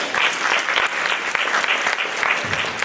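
Audience at a town hall meeting applauding, dense steady clapping from a room full of people, fairly loud and continuous for a few seconds.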